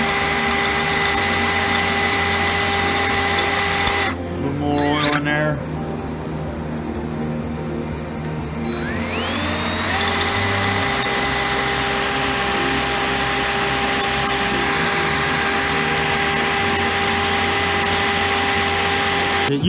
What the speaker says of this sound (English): That sucker's buckling when I'm drilling into it.